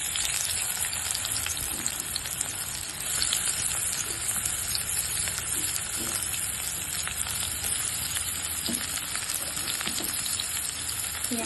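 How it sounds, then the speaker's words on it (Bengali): Onions frying in a pan with a bay leaf, a dense continuous sizzling hiss close up with scattered small crackles, steady in level and without voices. "পেঁয়াজটাকে তুলে আমি একটু লাল লাল করে ভেজে নেবো"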